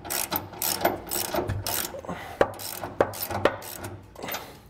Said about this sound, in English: we're going to need a 21 millimeter socket, and you're also going to want to use a breaker bar because those are fairly large bolts